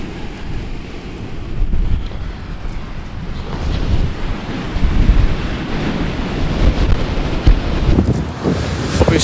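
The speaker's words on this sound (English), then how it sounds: "See the waves rolling in." Sea waves roll and crash onto the shore along the coast at St Leonard's, a continuous deep rumbling surf with strong gusty wind buffeting the microphone, loud and close throughout with no talking.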